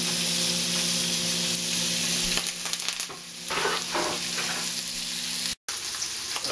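Pork for Korean spicy pork over rice hitting hot oil in a pan, a steady crackling sizzle with stirring scrapes, close and continuous, briefly cutting out near the end.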